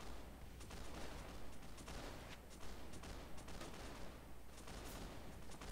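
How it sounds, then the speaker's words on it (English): Dense, continuous gunfire from enemies in the video game Mount and Blade: Warband, a steady crackling volley of overlapping shots at moderate loudness with no pauses. "These guys are fiercely shooting back."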